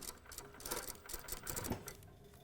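A sewing machine stitches a seam on fabric for a circle drape, its needle chattering in a quick, continuous patter at moderate volume with no voices.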